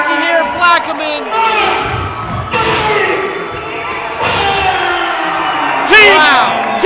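Crowd at a Pro Wrestling 225 show in Plaquemine roaring and cheering wildly after a new heavyweight champion wins, loud and sustained with whoops, under an excited announcer's commentary.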